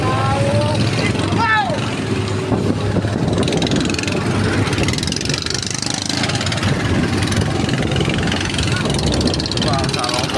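Several boat motors run steadily on the water during a fishing trip with a net, a loud, continuous droning rumble throughout, with faint voices and birdlike chirps mixed in.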